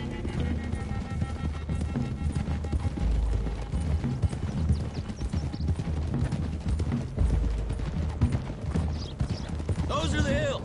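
Horses gallop in Red Dead Redemption 2, rhythmic hoofbeats drumming steadily alongside game music, with people talking over the riding.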